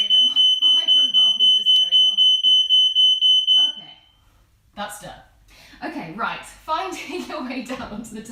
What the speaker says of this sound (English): I'm really sorry that my fire alarm is just going off.